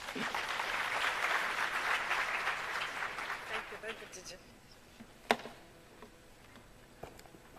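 A crowd at a launch event for 4IR centres of excellence gives a round of applause, moderately dense clapping that fades out after about four seconds, followed by a quiet room with a few sharp knocks.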